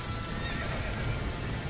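Horses in the video game Red Dead Redemption: a dense, continuous clatter of hooves with neighing mixed in, loud and busy throughout with no talk.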